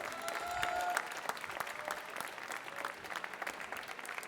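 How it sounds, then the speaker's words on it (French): Soft, distant applause from spectators at a French barista championship selection round for competitor Charlotte Malaval, a steady patter of clapping that fades slightly toward the end. "On applaudit une dernière fois Charlotte Malaval"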